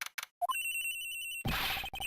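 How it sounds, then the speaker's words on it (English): A telephone rings in the Ace Attorney Investigations video game, a short rising chime followed by a loud, rapid electronic trill and a burst of noisy ringing. "The ringing's coming from somewhere in here"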